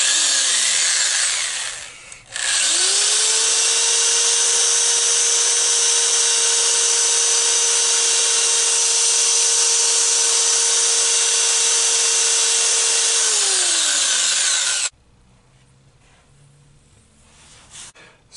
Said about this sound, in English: we're ready to power sand that down